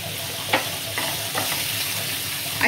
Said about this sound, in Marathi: आता ह्याच्यावर ही कोलंबी टाकायची।